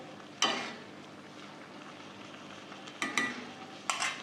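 Grated carrots cook in milk in a wok for gajar halwa, with a few short spoon scrapes and stirring bursts over a low, steady simmering hiss.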